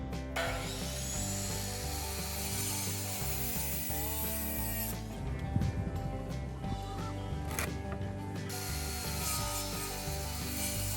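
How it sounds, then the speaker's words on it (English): Scrap 2x4 lumber being sawn into 30-inch pieces in a garage: a steady, close rasp of a blade on wood with rhythmic rubbing and mechanical ratcheting, fairly loud and continuous, with no voices. "I'm going to be just cutting down some pieces to 30 inches each."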